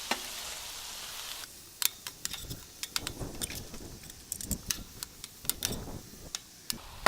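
Pre-cooked, thawed frozen shrimp frying in a little oil in a pan for a beef and shrimp stir fry, with a steady sizzle under scattered sharp clicks and scrapes of a utensil against the pan.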